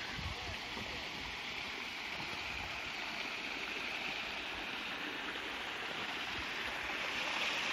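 A clear stream near Bass Lake flows steadily, a broad continuous rush of water close by with no talking over it.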